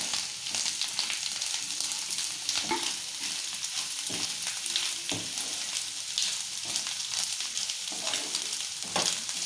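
Egg fry with chili powder sizzles in a hot pan while a spatula stirs and scrapes it in irregular strokes, a steady close crackle with no talking.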